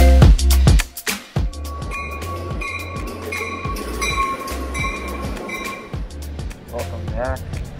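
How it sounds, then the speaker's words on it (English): Metro train on the way to Chicago rolling along its rails, a steady rumble with wheel clatter and brief high squeals, loud and close throughout, with a person talking over it. "Here, I am in the train"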